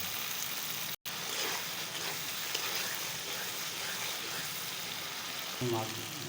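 Pieces of rui fish fry in a pan with onions, giving a steady, moderately loud sizzle throughout, with a brief dropout early on and a soft clunk near the end.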